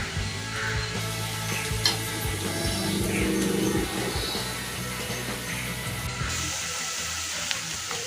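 Cumin, onion and curry leaves sizzling in hot oil in a pan for dosa upma, a continuous close frying hiss with some stirring scrapes throughout.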